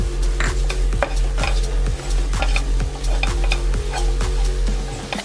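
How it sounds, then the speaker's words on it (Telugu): Spices and curry leaves frying in oil for masala vada pulusu, a steady close sizzle with rhythmic scraping strokes of a spoon stirring the pan about twice a second. "ఆయిల్లోనే ఇవన్నీ బాగా ఫ్రై అయిపోతున్నాయి"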